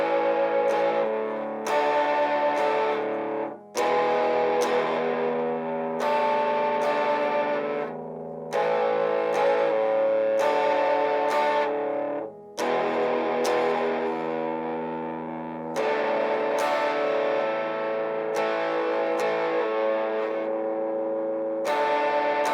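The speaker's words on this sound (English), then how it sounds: "I've decided distortion is my friend." Electric guitar strummed through heavy distortion, a beginner's chord pattern with sustained overdriven chords and brief gaps between phrases, loud and close with no voices.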